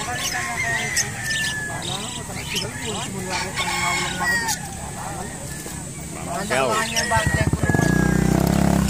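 Chickens clucking in a coop with a rooster crowing, the birds continuing throughout among other fowl calls while people talk nearby, growing louder toward the end.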